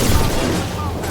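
Gunfire from a Krogan warrior in Mass Effect 2, a dense, booming burst of rapid shots that fills the whole brief moment with loud, continuous rumble.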